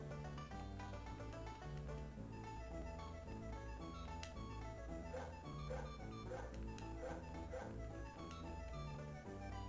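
Dogs barking and whimpering in the Game Boy Advance game Paws & Claws: Pet Resort, with short yips and whines mixed into a bouncy, looping chiptune soundtrack that plays continuously.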